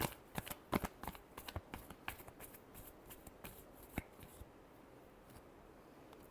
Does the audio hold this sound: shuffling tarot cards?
yes